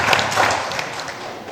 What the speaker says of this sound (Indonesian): Tepuk tangan nih.